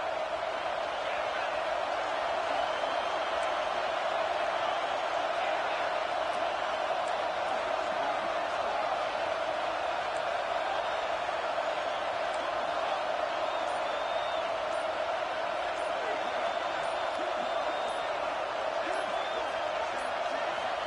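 A packed football stadium crowd during a college game roars in a steady, dense wall of noise that never lets up, loud and close throughout.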